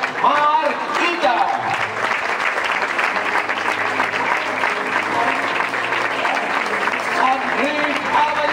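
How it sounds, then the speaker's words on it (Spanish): Sustained audience applause at a football club's official season presentation, broad steady clapping from a large crowd with a few brief voices and whistles rising over it. "Fuerte aplauso per l'Amadeu, Marc Ita."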